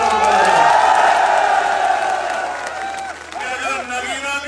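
A crowd at a political speech in Nagina claps and cheers loudly in a dense burst that fades over a few seconds, while someone speaks over a microphone as the applause dies down.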